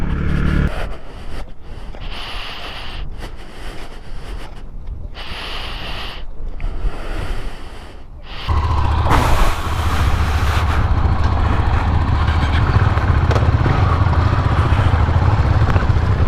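Motorcycle ridden slowly, its engine loud and close with a choppy, pulsing exhaust note, then a steadier, louder drone with wind rush after about eight seconds.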